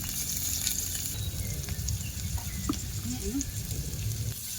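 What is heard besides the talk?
tofu being fried in a pan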